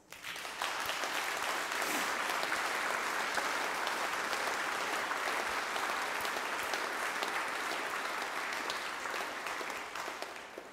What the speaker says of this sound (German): das gehört auch mal Applaus